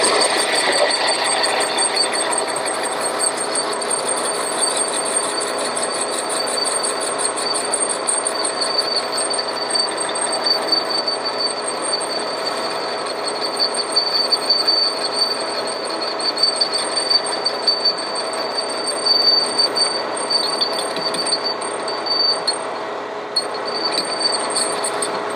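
A machining cut on an engine brake drum, the tool passing over holes so the cut is interrupted, gives a steady, loud, gritty rumble with a faint rapid chatter running through all of it, and nobody speaks.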